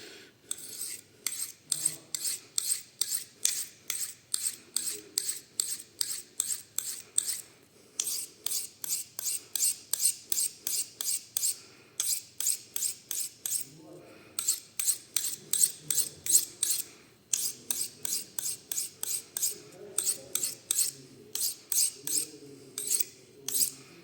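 Knife blade being sharpened on a Japanese Nakayama Kiita natural whetstone: steady rhythmic rasping strokes, close and clear, repeated in bursts with short pauses between sets.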